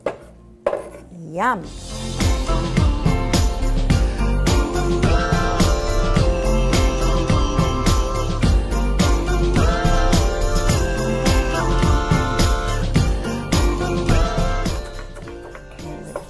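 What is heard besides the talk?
chopping onion for guacamole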